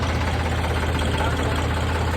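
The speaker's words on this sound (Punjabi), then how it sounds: "ਇਹ ਦੋ ਟਰੈਕਟਰ ਭਰ ਲਏ ਇੱਕ ਤਾਂ ਮਗਰ ਖੜਿਆ ਇੱਕ ਆ ਰਿਹਾ" A tractor engine idles steadily, loaded with goods for a wedding, with a second tractor nearby; the low, continuous rumble runs close and unbroken throughout.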